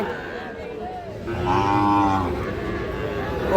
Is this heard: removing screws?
no